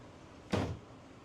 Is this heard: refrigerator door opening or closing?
yes